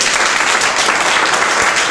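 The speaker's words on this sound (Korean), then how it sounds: "박수 맞으시죠" Loud, dense applause from a lecture audience at a 2016 ING Life variable-insurance seminar in Korea, steady and unbroken for about two seconds as a speaker is introduced.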